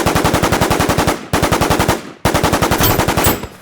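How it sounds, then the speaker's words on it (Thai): Loud, rapid bursts of machine-gun fire from an AUG rifle in the video game NewZ, three sustained volleys with brief gaps between them, close and dominant. "เสียงยิงปืนมัน"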